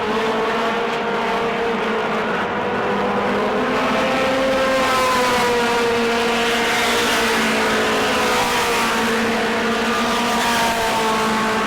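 Mod Mini 50 race cars lapping New Smyrna's track in a pack, several engines droning and shifting pitch together as they pass, loud and continuous with no talk over them.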